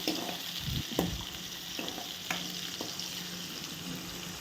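Onions, curry leaves and green chillies sauté in hot oil for a Sri Lankan style beetroot dish, giving a steady close sizzle with a few sharp spoon scrapes and stirs against the pan and no talk.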